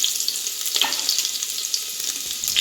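Small pieces of shallot fry in hot oil for a Kollam-style lunch dish, a bright, steady sizzling hiss with faint crackles, close and continuous with no voices.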